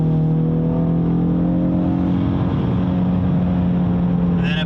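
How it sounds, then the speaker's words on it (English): A Ford S550 Mustang in sport mode downshifting, its engine revving up to match speed with a steady droning tone throughout, heard close and loud with no talking. "see how the car downshifts."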